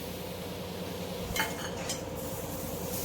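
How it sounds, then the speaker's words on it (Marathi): Beetroot and freshly grated coconut roast in a pan under steady stirring, with a soft continuous sizzle and a few scraping, clinking strokes of a spoon against the metal close by. "आता आपण बीट टाकू आणि बीट पण चांगलं भाजून घेऊ"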